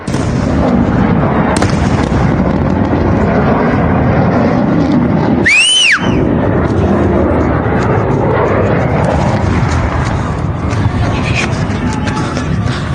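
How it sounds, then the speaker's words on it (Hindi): Loud continuous roar of fighter jets with a sharp whistling streak of a fired shell rising and falling midway, heavy rumbling throughout. "एक के बाद एक फाइटर्स ने गोले दागने शुरू किया, अटैक किया पायलट को यहां से उड़ा ले जाने के लिए।"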